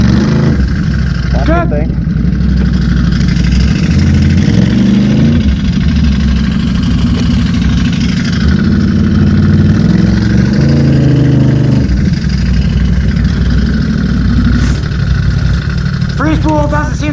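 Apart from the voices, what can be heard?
Can-Am Renegade ATV engine running, testing clutches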